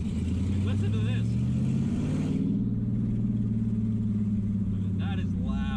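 Loud exhaust of a 1000HP Dodge Challenger Hellcat rumbling nearby, with a deep steady drone, while people talk over it.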